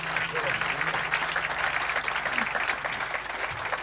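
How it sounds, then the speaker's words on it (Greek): An audience at a tribute evening applauds a lyricist with steady, dense clapping that fills the whole stretch, while a voice speaks over it. "Να τον χειροκροτήσουμε."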